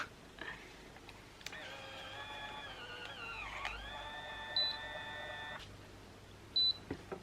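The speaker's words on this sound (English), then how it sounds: "You're waiting for the beep beep." A BaByliss Curl Secret Optimum hair curler gives a sustained electronic tone lasting a couple of seconds, followed by two short, sharp beeps, all close and clear with no talking.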